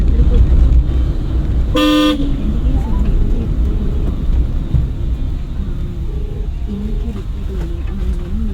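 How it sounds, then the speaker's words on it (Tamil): A car horn gives one short, bright toot from a driving-school car on the road, near and loud over steady engine and traffic rumble, with voices talking in the background. "ஹார்ன் அடிச்சிருக்கோம்,"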